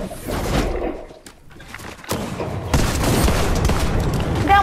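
Gunfire in a Fortnite match, a sustained crackle of rapid shots and booms, dense and fairly loud, dipping briefly in the middle before resuming, with little talk over it.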